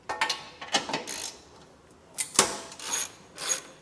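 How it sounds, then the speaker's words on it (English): A 15mm socket ratchet loosens the nuts holding the factory bumper beam on a 2023 Volvo XC60, making close, clicking pawl bursts in short rhythmic runs with pauses between them. "You can take a 15mm socket, and you're going to have 3 nuts on either side that are holding this factory bumper beam on."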